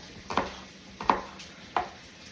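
A knife chops a homegrown onion on a board, three crisp separate cuts at an even, unhurried pace, close and fairly quiet with no talk.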